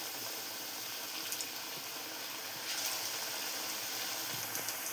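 Onion bajji batter dropped into hot oil, giving a steady, dense sizzle throughout with a slight swell partway, alone and without talk.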